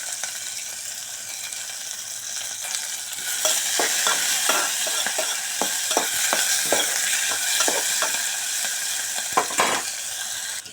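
Green chillies, onion and potato frying for khichdi give off a steady, bright sizzle, with a run of sharp spatula scrapes and taps against the pan in the middle.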